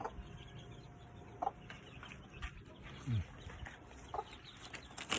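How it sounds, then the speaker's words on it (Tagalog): Chickens and chicks on a poultry farm, scattered soft clucks and a few short peeps over quiet background noise, faint and intermittent. "Kita natin yung mga sisiw. Yan, yung sisiw natin yan."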